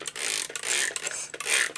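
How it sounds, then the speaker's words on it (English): Several quick spray bursts from a spray bottle, close up, in an uneven rhythm with short pauses between them. "Let's spray some water in it."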